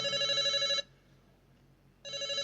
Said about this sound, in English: Hang on, I'm trying to answer the phone here.